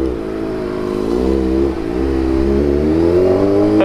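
A Kawasaki ZX25R motorcycle accelerates at night, its high-revving engine a loud, steady harmonic whine that climbs in pitch, dips briefly midway, then rises again, close and continuous.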